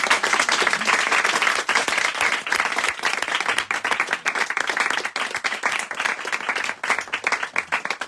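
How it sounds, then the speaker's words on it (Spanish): Loud, close audience clapping at a book presentation, dense and continuous with individual sharp claps standing out, lasting the whole stretch without letting up. "Darle un aplauso"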